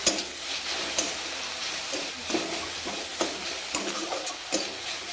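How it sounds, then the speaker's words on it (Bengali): Medicinal leaves frying in a pan for a curry, a steady close sizzle with occasional stirring scrapes and clinks, no voices. "আমাদের সুন্দর করে ভাজতে হবে"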